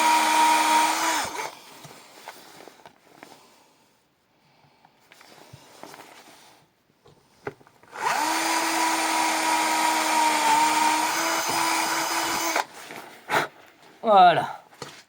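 A drill press bores a small hole in a plate, its motor whining in two steady bursts separated by quieter handling noise, with a voice talking nearby.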